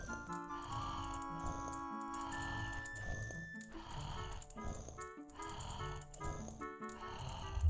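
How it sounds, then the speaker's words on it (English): Talon, a character in Zelda: Ocarina of Time, snoring: quick, regular snore cycles repeat steadily over soft in-game music, fairly quiet throughout. "I will do that while we listen to Talon snore."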